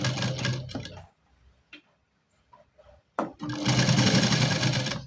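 A sewing machine runs in two close bursts of rapid rhythmic stitching on fabric, with a quiet pause between them filled by faint clicks and handling.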